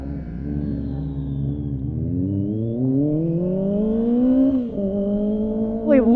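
Kawasaki ZX25R motorcycle engine revving up steadily at close range, pitch climbing smoothly over several seconds with a brief dip and gear change near the end, loud and continuous with no talk.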